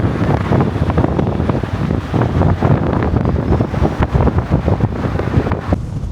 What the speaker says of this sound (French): comme vous pouvez le voir, il y a beaucoup de vent